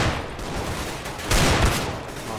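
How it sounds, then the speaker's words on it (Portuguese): Dense, noisy gunfire in Counter-Strike: Global Offensive, a continuous roar of overlapping shots that swells louder midway through the short stretch. "o cara tá atirando lá do posto"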